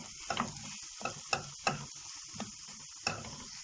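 Ground beef mince hits a hot pan with soft sizzling and several quick stirring scrapes, each one a short burst over a quiet background.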